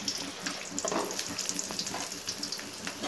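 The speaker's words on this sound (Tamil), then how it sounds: "வெங்காயத்தை ஒரு 2 நல்லா வதக்கிக்கிறேன்" Onion fries in hot oil with a loud, dense, continuous sizzle and a few stirring scrapes, heard close up with no talking.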